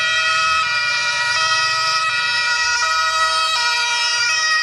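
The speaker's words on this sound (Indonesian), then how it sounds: "Lihat teman-teman, ternyata ada ambulan." A toy ambulance siren sounds continuously, a steady electronic wail with repeating tonal steps, close and fairly loud with no talking.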